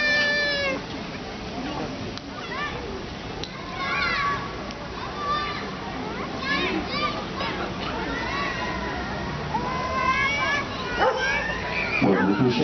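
A search and rescue dog barks over and over to signal a victim hidden in a crate, its sharp yips and barks coming in bursts amid crowd noise and voices talking nearby.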